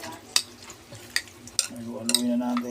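Raw fish kilawin with calamansi being stirred in a bowl, with several sharp utensil clinks and scrapes spaced about a second apart over a low background hum.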